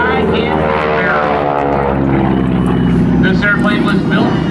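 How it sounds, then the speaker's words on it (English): A 1944 North American Aviation World War II advanced trainer airplane flies at an airshow, its propeller engine droning steadily and loudly throughout, with an announcer's amplified voice talking over it. "This airplane was built in 1944 in Dallas at North American Aviation."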